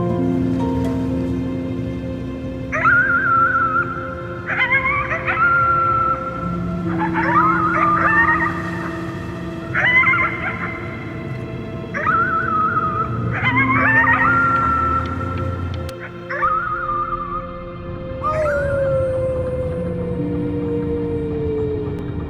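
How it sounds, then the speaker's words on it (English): A child howls at the moon in the video game Before Your Eyes: a series of repeated, wavering howl-like calls with a final long falling tone, heard alone over a steady low background hum. "You howled at the moon,"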